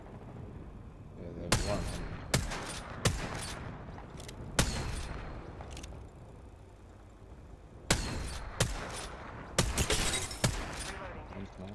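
Gunfire from the battle royale game Apex Legends: several sharp, loud bursts of shots in two clusters, spread across the clip over a steady background of game ambience, with brief speech in between.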